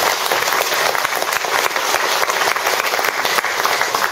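Loud, sustained applause from the congregation at a Buddhist dharma talk during a lay association's founding service at Bohyeon Seon Center on Gwanggyosan, a dense and even wash of many hands clapping throughout.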